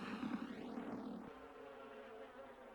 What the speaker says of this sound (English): If the other bees want to know more, they make a special noise.